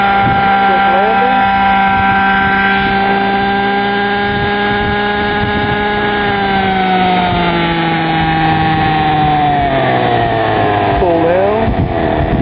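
A Radikal G30 engine runs steadily with its 3-shoe clutch engaging and disengaging, a buzzing, harmonic drone that dips and recovers in pitch, with a brief spoken call over it.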